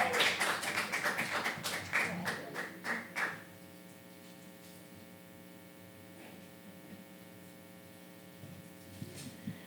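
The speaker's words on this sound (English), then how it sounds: "And now, please, a warm applause" Audience applause welcoming a Cuban flutist on stage at a concert: about three seconds of clapping that thins and fades out, followed by a steady low electrical hum in a quiet hall.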